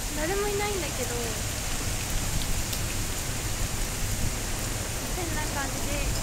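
Heavy rain pours down in Hyogo-jima Park, a dense, loud, unbroken roar of drops close around, with a faint voice briefly audible at the start and end.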